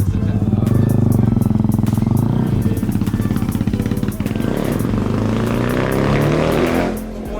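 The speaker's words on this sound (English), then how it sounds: "That bike sounds nice" A 250cc motorcycle engine running nearby, a loud steady idle with a fast pulsing beat, briefly revving higher before settling, with a little talk in the background.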